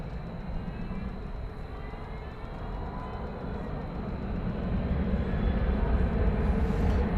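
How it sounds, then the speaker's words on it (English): American flight 1458 takes off at night at DFW airport, a broad rumbling engine roar that stays steady and then swells louder toward the end. "Taking off now, American 1458"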